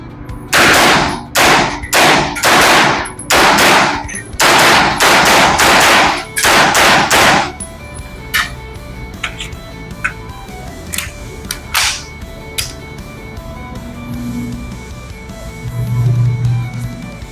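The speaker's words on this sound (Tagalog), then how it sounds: "Firing." A UTAS UT9-M minigun fires several loud, close bursts of rapid gunshots in quick succession, then sharper scattered single reports follow with quieter gaps between them.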